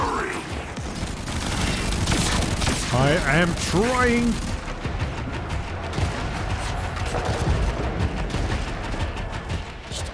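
Dense bursts of gunfire and rumbling blasts from the video game Warframe crowd the soundscape, with a brief voice speaking over the chaotic din.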